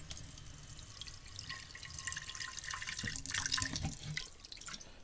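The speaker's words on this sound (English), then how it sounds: "I'm going to put in a little bit of water." Water poured into a cast iron pan with a little stuck-on food, a steady trickling and splashing that runs throughout at moderate level, with a few brighter drips and splashes, no voices.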